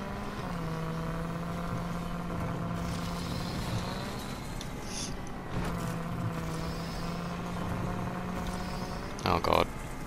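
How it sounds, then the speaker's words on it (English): A droning car engine in the video game RAGE 2 hums steadily, rising and falling in pitch as it revs, with brief louder bursts near the end. "Now that I can actually hear the car sounds"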